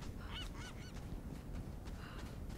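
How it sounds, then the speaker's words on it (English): Seagull calls in Tomb Raider, a series of squawking cries repeated several times in quick succession over a steady ambient game background. "it's a seagull."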